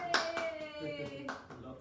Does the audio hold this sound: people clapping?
yes